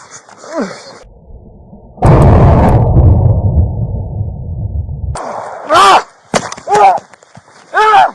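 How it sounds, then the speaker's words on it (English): Gunfire erupts during a police struggle with a burglary suspect: a sustained roaring blast of shots and noise lasting several seconds, loud and close, followed by officers shouting over the scene. "Shots fired!"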